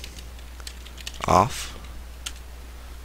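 Rapid keystrokes tapped on a computer keyboard, light irregular clicks close by, with a short burst of louder activity midway and a voice speaking briefly over the typing.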